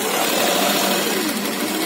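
An electric sewing machine runs steadily, stitching the waistband seam of an umbrella gown onto the skirt. Its motor gives a continuous, close whirring drone with no talking.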